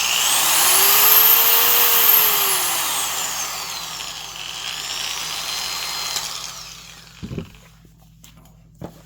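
A Vevor 1.5x30-inch variable speed pipe belt sander whirs loudly, its pitch rising and falling as the speed changes, then spins down, followed by a few clunks and a low hum.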